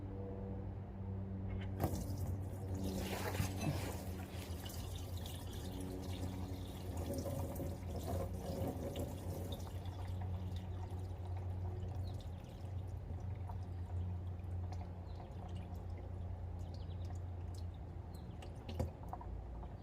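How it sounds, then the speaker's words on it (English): A steady stream of water pours and splatters continuously from the oil pan of a seized 1969 Buick Skylark engine into a container, a constant wet rushing sound with occasional drips. "Whatever it was that drained out of this engine drained out for nearly 5 minutes."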